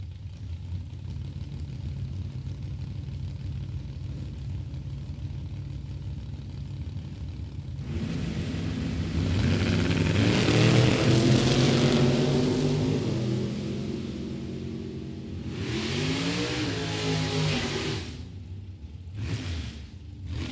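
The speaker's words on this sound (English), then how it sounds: "Mitchell Hinton, 77 Camaro out of Brownstone, Michigan, FTI Performance Lane. The 85 Monte Carlo of Jacob Eccles out of Westland." A '77 Camaro and an '85 Monte Carlo race at a drag strip. Engines idle at first, then a loud roaring launch swells and fades into the distance, followed by further engine bursts from the passing cars.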